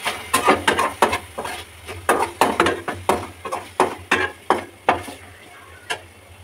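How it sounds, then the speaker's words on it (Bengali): Spices fry in a pan for pizza dough preparation, with a spoon striking and scraping the pan in a steady rhythm of sharp clicks about twice a second over a faint low sizzle. "মশলাগুলো দিয়ে ফ্রাই করে নেব।"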